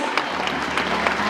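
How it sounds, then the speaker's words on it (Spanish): Crowd at a criolla rodeo applauding the riders, a dense, continuous burst of clapping that carries across the whole brief moment at even strength. "Fuerte, fuerte el aplauso."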